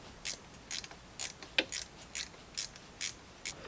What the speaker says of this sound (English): this one we might need to get in there with a ratchet wrench